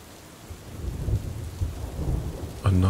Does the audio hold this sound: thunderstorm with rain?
yes